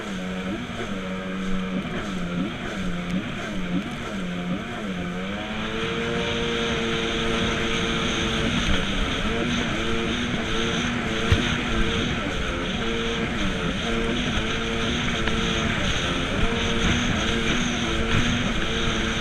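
Sea-Doo XP 800 personal watercraft engine droning steadily for the whole stretch, its pitch wavering and sagging early on as it bogs down, then holding a rougher, louder tone over wind and water noise.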